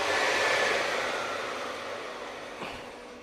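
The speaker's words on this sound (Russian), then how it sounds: "Вот, валит пар с выхлопной трубы." Steam hisses from the exhaust pipe of a Unox XBC 405 combi oven used for baking, a steady broadband rush that fades gradually, with a brief tap near the end.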